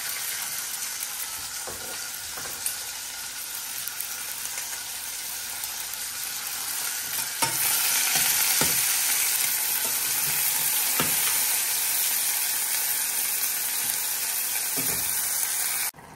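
Eggs frying with chopped onion in a pan, a steady hissing sizzle that grows louder midway as more goes in, with occasional stirring knocks close by.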